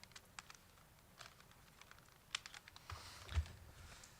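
Light typing on a computer keyboard in a conference room, with faint, scattered key clicks in an irregular rhythm over quiet room noise.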